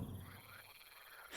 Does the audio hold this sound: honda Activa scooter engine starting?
no